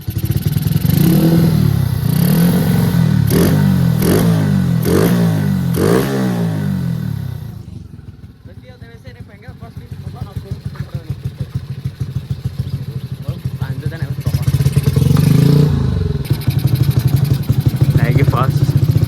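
A motorcycle engine with a poorly tuned carburetor revs loudly in uneven bursts up close, drops to a rougher, quieter idle, then revs up again.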